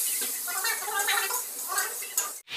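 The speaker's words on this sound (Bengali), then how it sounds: "আলুটা ওইদিকে ভাজা হচ্ছে" Potato pieces seasoned with salt and turmeric fry in a kadai, a soft steady sizzle mixed with light stirring and the clink of a utensil against the pan.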